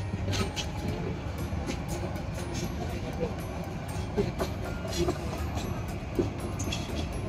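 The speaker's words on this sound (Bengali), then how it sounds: "বিমানবন্দরে রেলওয়ে স্টেশনে চলে এসেছি।" Station platform at an airport railway stop, with a steady low rumble of a nearby train or rail traffic and diffuse crowd noise, voices murmuring faintly throughout.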